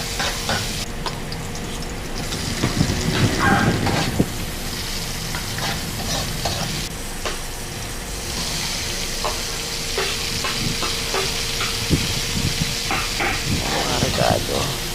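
Ginger and tomato, along with garlic and onion, sizzle and fry in a pan for squid adobo, a steady close hiss broken by spoon scraping and stirring, with a voice speaking now and then.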